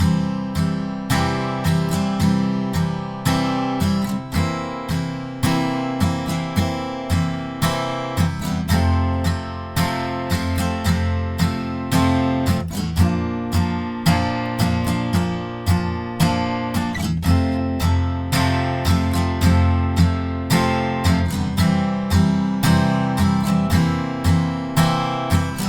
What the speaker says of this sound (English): we'll just continuously use that simple strumming pattern, which will sound like this